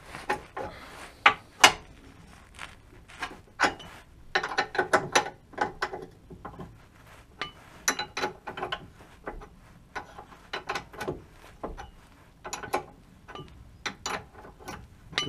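A ratchet clicks in quick irregular bursts while loosening an 18 mm nut on the suspension link of a Renault Clio 3, close and fairly quiet, with short pauses between runs and no talking.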